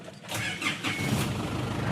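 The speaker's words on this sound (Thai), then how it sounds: "รถสตาร์ทที่เดียวติดนะครับ" An Isuzu Adventure 4x4 seven-seat family vehicle starts first try, cranking briefly and catching into a steady idle, close by.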